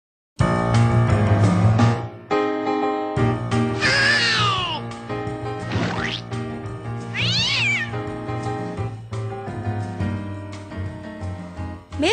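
A cat meows several times, with drawn-out, rising and falling cries standing out over a festive instrumental Christmas melody that plays throughout.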